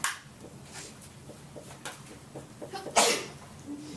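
A single sharp sneeze bursts out in a classroom during a quantum numbers lesson, loud against quiet room noise, with a few softer rustles and sniffs before it.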